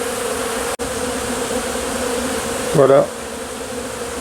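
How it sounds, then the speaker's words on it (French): Steady dense buzzing of many honeybees close by at an apiary, swarming on a beekeeper, continuous throughout, with a brief spoken word near the end. "je me retrouve avec plein d'abeilles sur moi."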